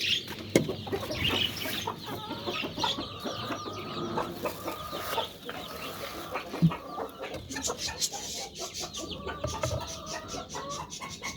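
A broody hen and her chicks cluck and peep close by while being fed, with irregular clucks, soft chirps and brief wing flutters throughout.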